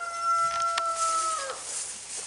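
A chicken in a backyard garden gives a short, high, drawn-out call followed by a few softer clucks, moderately close against a quiet outdoor background.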